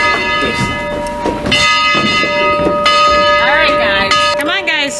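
A ringing bell on a toy train ride sounds in sustained, repeated clangs with lingering tones. Children's voices chatter and squeal close by over and between the rings.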